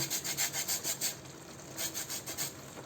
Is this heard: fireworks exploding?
no